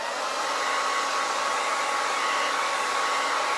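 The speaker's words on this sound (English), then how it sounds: "I'm going to hit it with the blow dryer." Hand-held blow dryer running steadily on its warm setting, a continuous airy whoosh at close range with no pauses and no voices.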